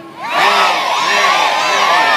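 Children at a summer school children's festival in Bakırköy loudly shout and cheer together during a singing game, a crowd of young voices erupting after a brief quiet start and sustaining a bright, excited roar to the end.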